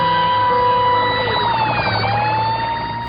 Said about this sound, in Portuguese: Ele ouviu a sirene e saiu rápido para liberar o trânsito.